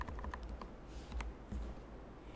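Typing code on a computer keyboard: a quiet, close run of irregular key clicks and taps, several in quick bursts, alone without speech.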